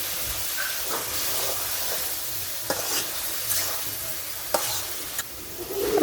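Chicken meat sizzles and hisses steadily in a pan on an earthen clay stove, with occasional stirring scrapes and clinks punctuating the constant frying noise, close and without talk.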